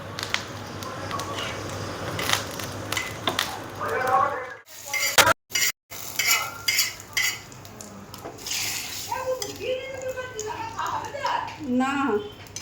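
Hot spice tempering poured over susni greens cooked with taro and lentils sizzles loudly, followed by clattering stirring against the pan, with a short dropout midway and a voice speaking over the cooking.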